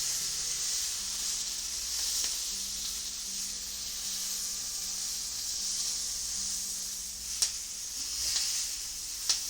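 A steak sizzles in a hot pan after being flipped, a steady close hiss of frying fat that runs throughout, with a few faint clicks and taps near the end.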